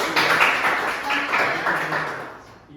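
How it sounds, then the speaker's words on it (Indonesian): A classroom group claps for Widi during a microteaching session on design principles, a brief, moderately loud round of applause that gradually fades out. "tepuk tangan untuk Widi"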